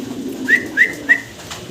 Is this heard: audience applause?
no